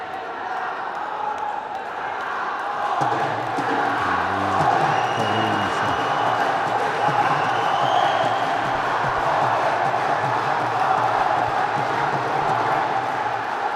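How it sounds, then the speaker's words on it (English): Home crowd at a men's AVC Cup volleyball match between Vietnam and South Korea roars steadily in a large arena, a sustained broad wash of cheering that swells after a few seconds and holds loud throughout, with faint commentary underneath. "Crowd really into this, right behind the home team."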